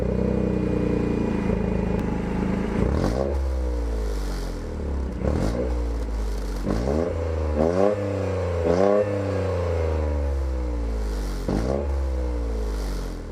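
A Toyota GR Corolla engine cranks and catches, then idles and is revved repeatedly, each rev rising sharply in pitch before dropping back, close and loud.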